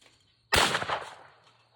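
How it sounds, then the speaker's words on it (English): A single shotgun blast fired at a clay target in a long-range shooting challenge, using a Chadite 8-shot shell; one sharp loud report with a decaying tail, no talking. "I'm going to go ahead and take 2 shots with the Chadite 8-shot and see if I can get it done at this distance"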